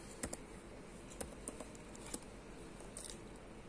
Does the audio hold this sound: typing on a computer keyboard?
yes